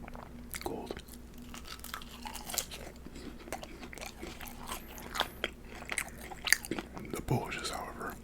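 Cold fries and a cheesy Maxwell Street Polish sausage being eaten up close, with soft chewing, bites and occasional crunches running steadily throughout.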